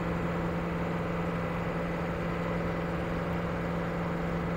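A car engine fitted with water methanol injection drones steadily after a downshift, a loud, constant hum with strong low tones and no breaks, alone without voices.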